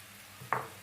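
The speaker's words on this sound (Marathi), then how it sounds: "आता ह्यामध्ये मी हे भात घालून घेते" Cooked rice tipped into a hot kadhai for paneer pulao gives one short, close sizzling rustle that fades quickly against a quiet kitchen background.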